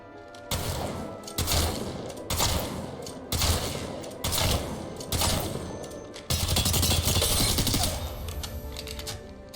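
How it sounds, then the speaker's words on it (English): Rapid bursts of gunfire in a shooting video game during aim training, several loud sustained volleys separated by short gaps, ending in a longer continuous burst, with no speech. "I'll turn around and try to hip fire and take out the dummy with one mag"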